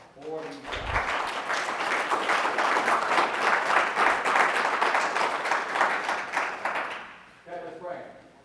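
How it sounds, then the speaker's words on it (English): A room of attendees at an NSRA 2025 event claps for the sponsors, a full burst of applause building quickly and holding steady for several seconds before fading, with brief talk at the start and end. "So another round of applause for these guys."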